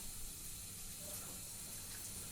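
Hot water runs steadily from a tap, a constant close hiss and splash with no break, heard alone.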